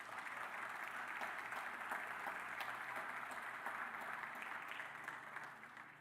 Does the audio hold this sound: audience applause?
yes